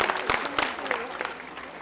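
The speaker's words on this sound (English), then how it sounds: "let's give them a round of applause for coming today" A crowd at a One World Day community gathering applauds steadily, a dense wash of clapping with scattered sharper claps that stays fairly even and gradually thins toward the end.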